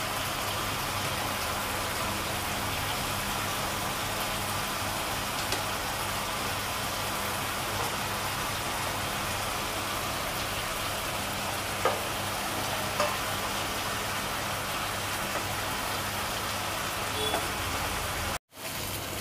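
Bombil fish frying in hot oil produces a steady, dense sizzle and crackle that runs continuously and evenly throughout, with no talking.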